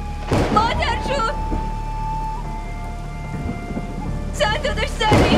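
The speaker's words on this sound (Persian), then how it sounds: "فرهان بارون شدید داره میباره، طوفان اومده." Heavy rain pours steadily with deep rumbling thunder underneath, while voices call out over the storm at the start and end.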